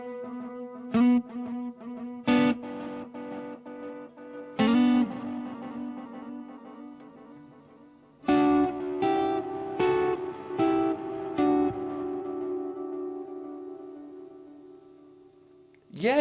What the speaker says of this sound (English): it sounds like there's distortion going on in the first repeats, and then the distortion kind of fades away